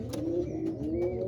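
Racing pigeons in a loft keep up a continuous cooing chorus, soft throaty calls overlapping at close range with no voices.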